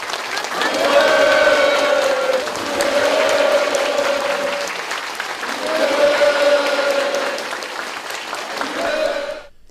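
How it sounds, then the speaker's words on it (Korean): Enthusiastic applause from a crowd at a gift ceremony at Okryu Children's Hospital in North Korea, sustained loud clapping in waves with a voice speaking over it. "선물이 참가자들의 열광적인 박수 속에 전달됐습니다"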